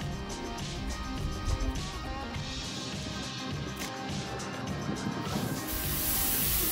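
Bacon sizzles on a hot griddle, a steady broadband hiss and crackle that continues throughout at moderate level with no voices.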